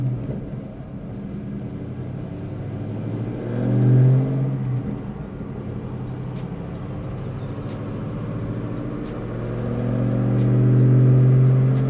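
A Stage 3 LS3 Camaro running E85 strains on a dyno in 4th gear during a 3000-6600 rpm pull, its low engine drone rising steadily in pitch and loudness, with a brief swell partway through.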